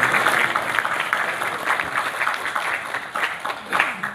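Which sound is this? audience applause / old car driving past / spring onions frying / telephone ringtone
audience applause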